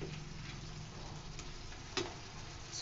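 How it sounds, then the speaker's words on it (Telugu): Sun-dried mutton frying dry in a pan, a faint continuous sizzle with a couple of sharp ticks from stirring. "సో బాగా డ్రై అయ్యే వరకు ఫ్రై చేసుకోవాలి."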